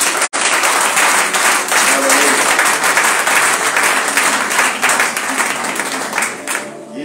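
A church congregation applauds and cheers to acclaim the Lord, dense sustained clapping filling the room for several seconds, with a brief break near the start and voices mixed in, fading slightly at the end.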